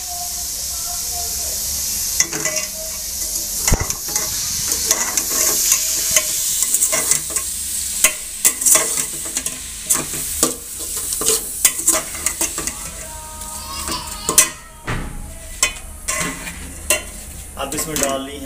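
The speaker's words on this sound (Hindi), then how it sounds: "फिर बाकी चीज़ें बंद गोभी और ये सब चीज़ें डाल के अब इसको भूनेंगे हम" Potatoes and cabbage frying in a pan, a bright continuous sizzle with frequent clattering spoon strokes and scrapes, close up, the stirring growing busier and more irregular toward the end.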